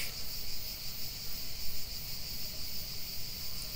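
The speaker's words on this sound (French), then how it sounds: "la seule chose qu'on entend, ce sont les cigales" Cicadas drone steadily at Pagnol's place in Provence, a continuous high buzzing chorus with a pulsing shimmer, moderately loud and unbroken, with no voices.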